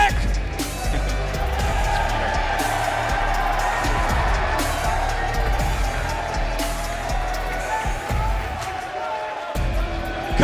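Crowd at the Kickoff Classic 2022 semifinals and finals, a basketball event, roaring and cheering steadily and loudly throughout, with whoops over a dense wash of noise and a brief dip near the end.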